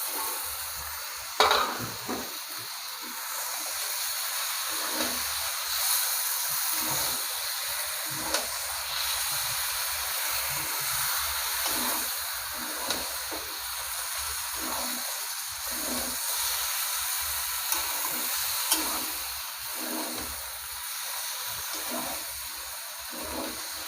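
Fried Malabar spinach and pumpkin sizzle with a fish head and spices in a pan. A continuous oily sizzle runs under rhythmic stirring scrapes, with an occasional sharper clatter of the spoon.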